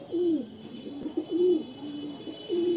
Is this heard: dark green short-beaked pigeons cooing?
yes